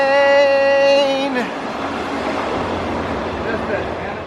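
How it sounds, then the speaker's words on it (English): A train passing near the Appalachian Trail in the Harpers Ferry, West Virginia and Maryland area sounds a loud, steady horn for about a second, then gives way to a broad, continuous rumble of wheels and cars rolling by close at hand. "Train!"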